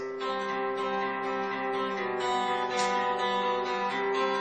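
Fingerpicked acoustic guitar in a beginner fingerstyle pattern, thumb playing steady bass notes against two fingers plucking chord tones together, even and continuous, ringing close with no talking.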